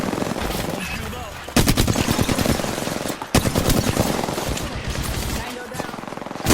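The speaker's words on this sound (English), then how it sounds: "The enemies are shooting at me." Enemy gunfire in the Apex Legends video game: loud bursts of rapid automatic fire in two long stretches, with quieter game sounds between them.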